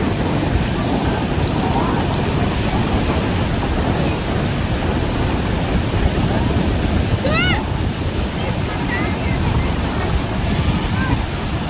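Sea surf rolling onto the beach at Puri, a steady broadband wash of waves with wind buffeting the microphone throughout, and a few faint bird-like chirps partway through.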